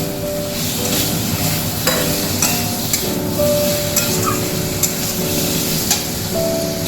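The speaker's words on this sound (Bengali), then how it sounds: "আমি এবার ভাজা আলুগুলো দিয়ে দিলাম।" Fried potatoes tipped into a pan and stirred while cooking a vegetarian new-potato alur dom, giving steady close sizzling with scattered scraping and clattering knocks from the stirring, no voices.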